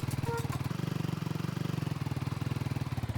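A dirt bike engine in Minecraft throbs with a steady, rapid pulsing rhythm, holding a low, buzzy idle at moderate loudness after a brief shift near the start.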